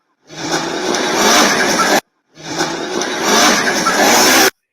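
Two bursts of a rally car engine and exhaust revving hard, each rising and roaring loudly before cutting off abruptly.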